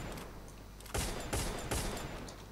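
Woodpecker gunfire in the mobile shooter Free Fire: three loud, sharp bursts crack out close together in quick succession over faint game background, with no voices.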